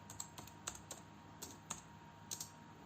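Quiet close taps on a keyboard typing a page name, about a dozen irregular light clicks spaced unevenly.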